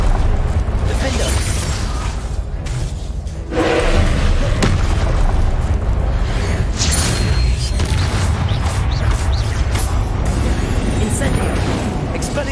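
Spell explosions and magical blasts in Hogwarts Legacy, booming impacts and mechanical creaks over a dense continuous game soundtrack, with a voice casting spells in between.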